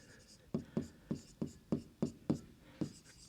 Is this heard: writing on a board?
yes